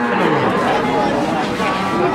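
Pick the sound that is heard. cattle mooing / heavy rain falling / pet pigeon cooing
cattle mooing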